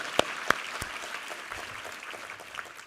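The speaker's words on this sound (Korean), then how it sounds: "우리 하나님께 감사와 영광의 박수 올려드리겠습니다." A church congregation applauds at a New Year thanksgiving Sunday service, with a few sharp claps at the start before the sound settles into a steady, moderately distant patter of many hands.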